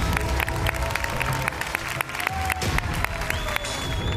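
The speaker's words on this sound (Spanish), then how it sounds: "el aplauso para nuestro notario" Studio audience applauding a notary on a TV masked-singer finale: loud, sustained crowd clapping with some cheering, a few tonal whistles and faint voices blended in.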